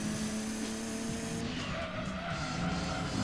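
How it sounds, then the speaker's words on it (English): A race car engine in Gran Turismo 2 roars steadily with a tire squeal early on, then the engine note shifts as it keeps running, loud and close with no voices. "this car actually has a nice sound"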